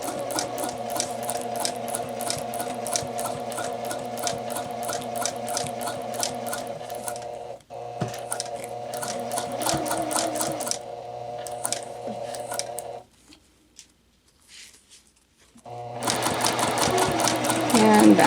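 A sewing machine stitches a jacket bodice with a steady, fast mechanical whir close by. It stops briefly, pauses for a few seconds of near quiet, then starts running again.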